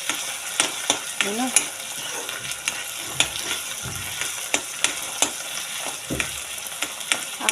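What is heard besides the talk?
vegetables and tomato frying and being stirred in a pan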